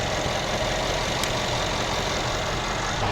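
A car engine runs steadily at about 1500 RPM during an A/C recharge, a constant even drone with no voices.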